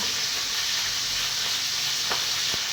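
Fish frying in a pan in a home kitchen, a steady close sizzle with broadband crackle throughout and a couple of sharp pops near the end.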